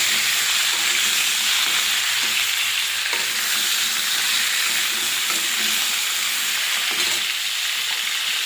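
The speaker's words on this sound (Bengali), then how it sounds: "ফোড়নে দিয়ে দেব কালো জিরে, কেটে রাখা কাঁচা কলা আলু দিয়ে একটু নাড়াচাড়া করে নেব।" Black cumin seeds and cut raw banana and potato stirred in hot oil, a loud continuous sizzle and hiss with occasional scraping stirs throughout.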